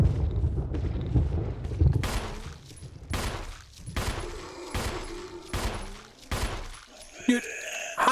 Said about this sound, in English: How many shots are you gonna take, bro?